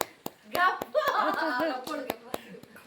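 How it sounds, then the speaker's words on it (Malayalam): A group claps for a children's game, sharp hand slaps scattered irregularly across a few seconds with lively voices and chatter around them. "ഒന്ന് ക്ലാപ്പ് ചെയ്ത് തരാം എല്ലാവരും കേട്ടോ"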